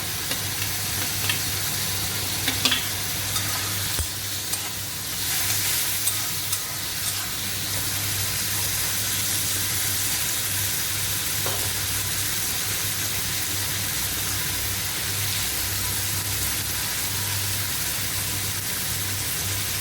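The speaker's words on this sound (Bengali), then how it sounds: "এরপর একটা বড় টমেটো কুচানো আমি দিয়ে দিচ্ছি।" Chopped tomato and chana dal fry in a pan, giving a continuous steady sizzle with a low background hum and occasional scrape of stirring, close and without talk throughout.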